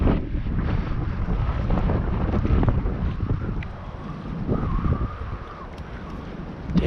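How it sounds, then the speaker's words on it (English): Strong wind gusts buffet the microphone on a boat while crappie fishing in 40 mph winds, a continuous loud rumbling roar that swells and eases over several seconds. "Go away, wind."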